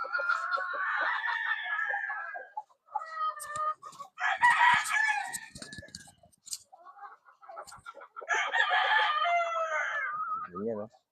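Brood hens on a breeding farm, about twenty-six birds, cluck and squawk in loud overlapping bursts, with a rooster crowing among them and brief pauses between the flurries.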